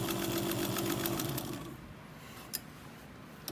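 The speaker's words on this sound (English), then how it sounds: "But as you saw, the machine did not hesitate through 3 layers of denim." An antique White Rotary 9002 sewing machine stitches through three layers of denim with a loud, steady mechanical hum that slows and fades into quieter rumble after about a second and a half, with a small click near the end.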